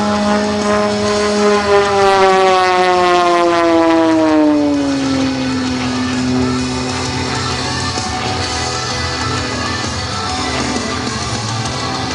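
An aerobatic propeller airplane flown at an air show, its engine note sliding downward as it passes and then droning steadily, loud and continuous with no talk.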